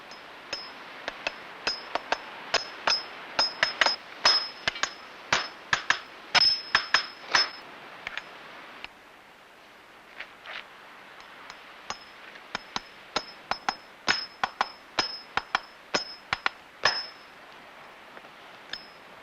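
Sharp metallic hammer strikes ring out in quick irregular bursts, dozens of bright clanging taps with short pauses, close and loud with no talking, as nails are driven into a horseshoe on a horse's hoof.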